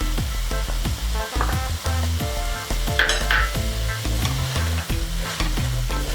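Four finely chopped green chillies fry in a pan for a chicken capsicum dish, producing a loud, dense sizzle with rapid rhythmic stirring scrapes and knocks throughout.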